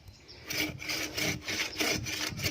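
A bow saw cuts through tamarind wood being felled for charcoal, with steady rhythmic back-and-forth rasping strokes, loud and close, about six strokes with no talk.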